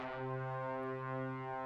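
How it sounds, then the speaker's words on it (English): Big-section brass synth preset in a trumpet style, one sustained, steady, harmonically rich chord held for under two seconds at a soft, even level with no other sounds. "within Expand, we use the big sections preset in the brass"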